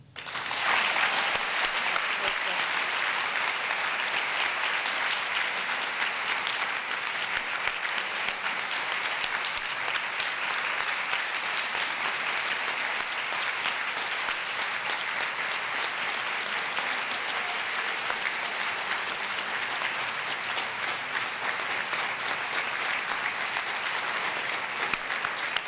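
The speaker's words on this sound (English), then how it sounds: "We honor and applaud you." Sustained, even applause fills an award ceremony honoring international women of courage, a large audience clapping steadily for the whole stretch without letting up.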